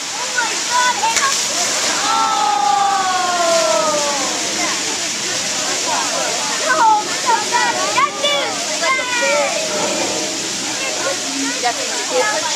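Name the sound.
6.5-ton iron water wheel turning at a gristmill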